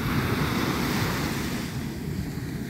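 Ocean surf at Englewood Beach on Florida's southwest coast, a steady close wash of breaking waves with wind buffeting the microphone, no voices.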